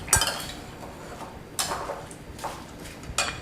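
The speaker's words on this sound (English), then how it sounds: "I'm just going to stir it up." A utensil stirring sour cream and mayonnaise in a bowl, with four sharp clinks against the side at uneven intervals over soft scraping.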